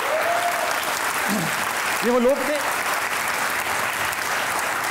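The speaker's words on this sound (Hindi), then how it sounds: "इन सब के लिए बहुत सारी तालियां होनी चाहिए।" Studio audience applauding Pakistani medal winners on a TV show, a steady dense wash of clapping throughout with a voice speaking over it.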